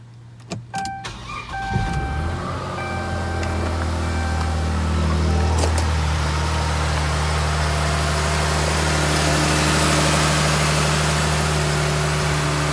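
A 2011 Dodge Durango started with a push button after a spark plug change: a few clicks, a quick cranking catch, then the engine settles into a steady, loud idle hum that runs to the end.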